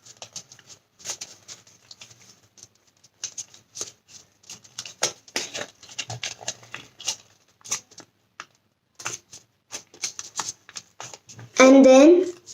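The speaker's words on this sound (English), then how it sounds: "Fold it inside and then outside." Paper being folded for a hummingbird origami model: repeated short crisp crinkles and creases in an irregular stream, close and fairly quiet, ending in a louder burst of handling.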